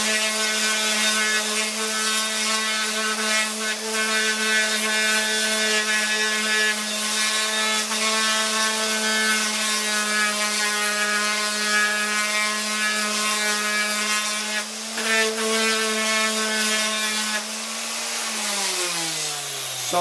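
Power sanders grind rust off a motorcycle fairing in a steady, loud, high-pitched whine with dense harmonics, running continuously before the motor pitch drops as it winds down at the end.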